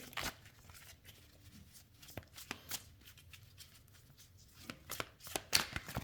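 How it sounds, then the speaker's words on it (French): A deck of tarot cards is shuffled by hand, giving soft, close riffling and flapping bursts that grow busier and sharper toward the end, with no talking over it. "Je remélange bien mon jeu."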